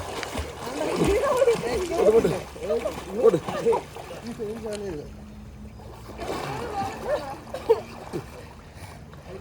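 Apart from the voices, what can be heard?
person swimming and splashing in water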